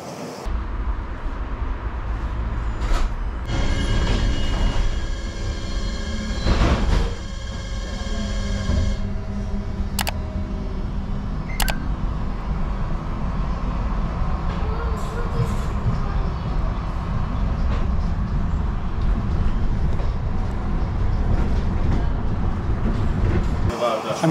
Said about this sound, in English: as I'm looking at the timetable, the number 24 just pulled in.